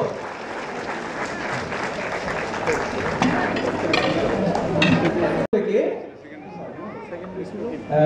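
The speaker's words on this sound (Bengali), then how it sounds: "আমরা সবাই একটু করতালি দিব" Audience applause at a prize-giving ceremony, dense clapping from a crowd that builds, then cuts off briefly and trails into scattered claps with a voice speaking over it near the end.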